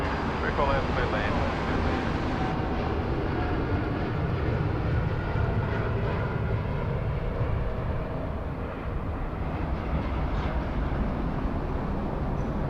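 A United Airlines plane departing Sydney Airport, its engines a broad steady roar heard at a distance, with voices talking over it.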